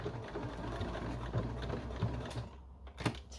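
A sewing machine stitches over the original seam of an apron, giving a quiet, steady mechanical whir with rapid rhythmic ticking that briefly dips near the end.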